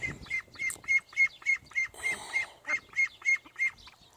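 Ducks on a farm being moved to a new home give a steady run of about a dozen loud, nasal quacks in a regular rhythm, close by and with no talking.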